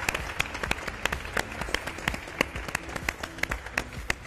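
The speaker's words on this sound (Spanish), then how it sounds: "Aplausos para todos" Sparse, individually distinct hand claps from a modest audience ring out close by in an uneven rhythm, a light smattering rather than a full ovation.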